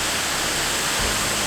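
Aber Falls waterfall in the rain roars as a steady, loud, broadband rush of falling water with no other sounds.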